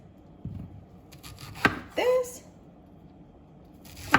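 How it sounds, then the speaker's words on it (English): Knife chopping yellow and green calabacitas (squash) on a cutting board: a few scattered cuts and taps, close and fairly soft, over low room noise. "So I like to cut my calabacitas or squash in 4s."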